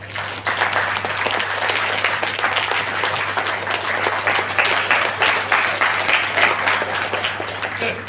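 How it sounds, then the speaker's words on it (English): An audience claps at an entrepreneurship training session at a university, a dense steady applause that runs throughout, close and full, over a constant low electrical hum, with faint speech mixed in. "Let me clap once."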